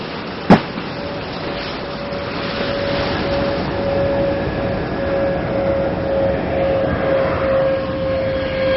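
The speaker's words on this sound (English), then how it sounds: "Discovery's rolling out on runway 33 at the Kennedy Space Center, completing 189 orbits of the Earth." Space Shuttle Discovery rolling out on runway 33 at Kennedy Space Center after touchdown, heard as a continuous loud roar with a steady tonal whine, plus a short sharp thump near the start.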